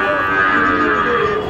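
Cattle moo loudly and close by at a calf market in Jashore, one long drawn-out low call filling the moment amid background livestock noise.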